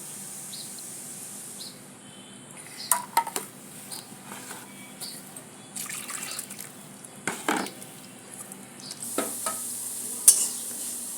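Potatoes frying in a pan, a steady sizzle broken by repeated clinks and scrapes of stirring at irregular intervals, close and moderately loud, with no talking.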